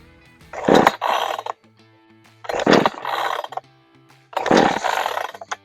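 A Pinkway 63cc chainsaw with a 20-inch bar is pull-started three times, each pull a loud rasping whir that rises and fades with pauses between, and the engine does not catch.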